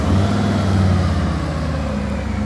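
Motorcycle engine running steadily after starting, a loud low rumble with a constant mid-range drone held for the whole moment, no voices.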